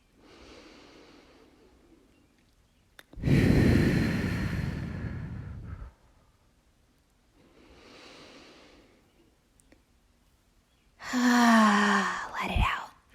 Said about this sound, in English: starting with an inhale through the nose. And exhale out through the mouth